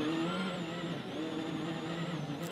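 A Ford Fiesta rally car driven by Robert Kubica crosses the stage finish line at Rally de Portugal, its engine a sustained high-pitched whine with shifting revs, steady and moderately loud.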